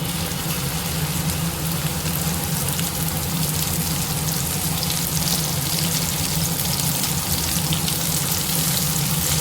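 Okra is added to hot oil in a pan with chana dal and fries in a loud, dense, continuous sizzle that stays steady and close throughout, with no talking.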